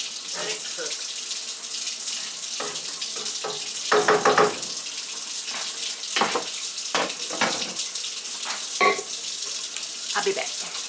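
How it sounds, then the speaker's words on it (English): Kitchen tap runs water steadily into a sink for several seconds during home cooking, a continuous close splashing broken by a few louder gushes as the flow shifts or hits dishes. "just add a little water"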